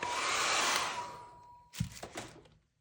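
A hair dryer blows a steady whirring rush over a layer of a mixed media painting, then winds down and stops, followed by a few soft knocks and clunks.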